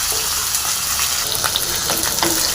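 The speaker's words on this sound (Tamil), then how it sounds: "கரவலை போட்டுடலாம் அப்புறம் சாம்பார் வெங்காயம்" Curry leaves and small sambar onions drop into hot oil already popping with mustard seeds and urad dal, giving a loud, close, bubbling sizzle with crackling pops and no talking.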